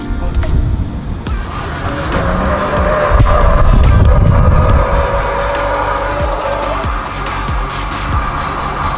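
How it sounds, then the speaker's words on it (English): A Ram 1500 pickup with a leveling kit and King shocks spins a donut off-road, its engine revving loudly while the tires skid and squeal continuously and close by. "Let's see if we can at least rip a donut."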